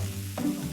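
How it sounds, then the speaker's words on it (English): Marinated pork hits hot vegetable oil in a Cantonese kitchen, a loud continuous sizzle with a brief stirring scrape partway through, close and unbroken. "I'm quickly frying the marinated pork with vegetable oil to seal in the flavors."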